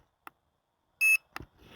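A Hubsan Zino Mini SE drone gives a few short electronic beeps sparsely on its return home: a tiny blip, then a brighter sustained tone, followed by a quick chirp and soft noise.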